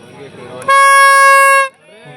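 An electric horn sounds once at a village kabaddi match, a loud, steady, buzzing blast of about one second, with a commentator talking just before and after it.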